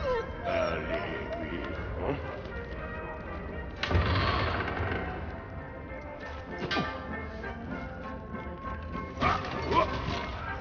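A dog barking in the Valiant Hearts: The Great War video game, with several yips and barks scattered over game sounds and background noise, and someone talking throughout.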